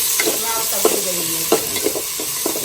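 Garlic, onion and green chillies sizzle in a hot pan while a spatula scrapes and stirs in repeated short strokes, close and fairly loud over a steady frying hiss.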